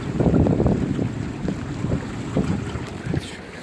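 A small boat on Tokko Lake in Yakutia moving toward shore in the dark and rain, with a steady wash of wind and water noise and soft lapping splashes, fairly loud and close, no voices.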